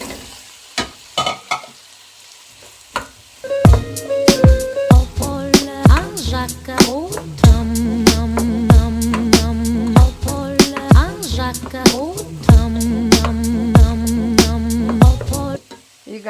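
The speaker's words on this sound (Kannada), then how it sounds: "ನೋಡಿ ಸೋಯಾಬೀನ್ ಹಾಕ್ತೇನೆ." Soybeans tossed into a hot pan for pulao and stirred, a loud sizzle of frying oil broken by repeated sharp scraping and clanking strokes of the spatula against the metal pan, with no one speaking.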